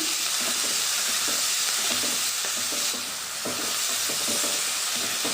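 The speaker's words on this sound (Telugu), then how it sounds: "కలుపుతూ ఫ్రై చేసుకోవాలి" Prawns frying with turmeric and salt while being stirred, giving a loud, continuous sizzle with scraping stirring strokes throughout and no voices.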